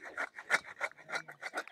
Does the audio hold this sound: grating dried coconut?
yes